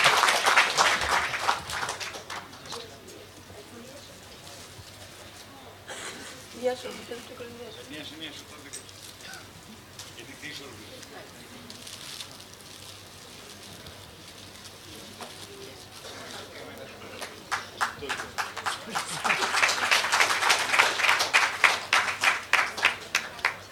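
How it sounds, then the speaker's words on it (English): Applause from an audience at a UNESCAP e-learning course special event on disability-inclusive disaster risk reduction, bursting at the start and swelling into dense clapping near the end, with stretches of talk and quieter murmur in between. "I'd give yourselves a round of applause"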